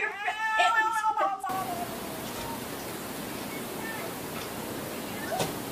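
A cat gives a loud, drawn-out yowling meow up close, then it breaks off into a steady wash of background noise.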